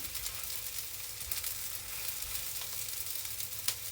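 Vegan bean patties fry in oil in a pan, a steady, close, soft sizzle with occasional sharper pops and no voices.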